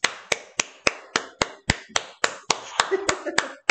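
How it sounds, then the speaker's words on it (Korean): Hands clap in a steady, brisk run of about a dozen sharp claps in a classroom, close and fairly loud, with a brief voice murmuring underneath near the end. "박수."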